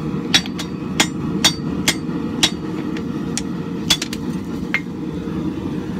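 A hammer strikes scrap steel, drawing out a Viking axe head during forging. About a dozen sharp, ringing blows land at an uneven pace over a steady low background rumble.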